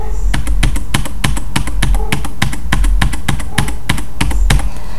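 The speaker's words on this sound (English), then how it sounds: "So the right arrow key is on your keyboard. You're going to actually just press it 15 times" About fifteen sharp, evenly spaced key presses on a computer keyboard, all the same arrow key tapped in a steady rhythm, loud and close with no talking.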